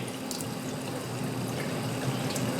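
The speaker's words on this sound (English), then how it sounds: "I will rinse it off. I'm using hot water, by the way, and out here the hot water is scorching." Scorching hot tap water streams steadily over a DMT 600 grit diamond sharpening rod, a continuous close splashing rush with faint drips.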